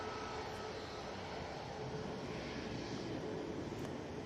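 Airliner departing Manchester Airport for Naples, a steady broad jet engine roar heard from a distance, faint and unbroken for a few seconds, no talking.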